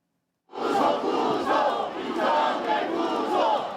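A loud outdoor crowd at a snowy winter impeachment rally in a public square roars and chants in unison, the massed voices surging in rhythmic waves right after a brief silence.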